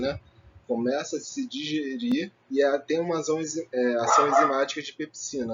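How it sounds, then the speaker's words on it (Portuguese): A dog barks and yips somewhere in the background, partly buried under a person's continuous Portuguese talk. "se você escutarem latindo de cachorro, é o mercúrio"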